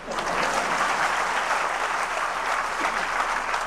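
A crowd at an opening ceremony in Thane gives warm, sustained applause, steady and fairly loud throughout, with no other sound over it.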